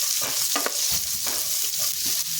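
Onions, curry leaves and asafoetida fry in oil over a medium flame, giving a loud close sizzle, with a spoon stirring and scraping through them in quick, irregular strokes.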